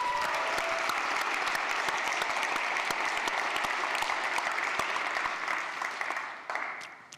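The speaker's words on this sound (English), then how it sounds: "just a round of applause" An audience applauds continuously, a dense, steady patter of many hands that thins out near the end.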